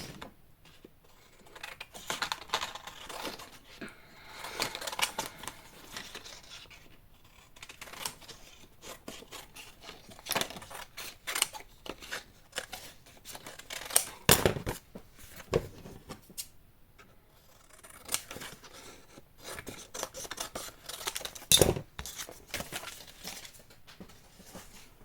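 Scissors trim excess material from a Japanese-bound mini album, with repeated close snips and clicks in uneven bursts, separated by quiet pauses and light handling noises.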